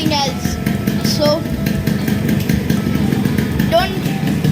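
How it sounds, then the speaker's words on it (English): Motorcycle engine idling with a steady, loud mechanical rattle from the clutch bell, running continuously throughout with brief whistling tones over it. "That's the clutch bell noise and nothing else."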